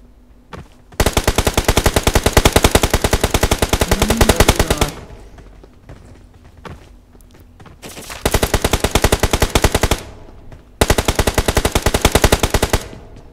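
Automatic gunfire in a video game, three long rapid bursts of loud, evenly spaced shots separated by short pauses.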